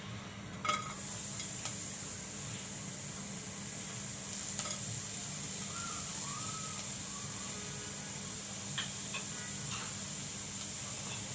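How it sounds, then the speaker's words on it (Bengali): Soft, steady sizzle of onions and green chilies frying in a wok, with a few faint clicks and stirring scrapes, no voices. "এখন আমি এখানে পেঁয়াজ কাঁচামরিচ দিয়ে দিচ্ছি"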